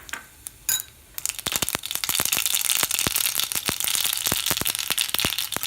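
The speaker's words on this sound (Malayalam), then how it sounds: "എണ്ണ ചൂടായിട്ടുണ്ട്. ഞാൻ കടുക് പൊട്ടിക്കുകയാണ്." Mustard seeds crackling and popping in hot oil in a pan for an aloo gobi curry, a dense, loud run of sharp irregular pops over a sizzling hiss after a quieter start.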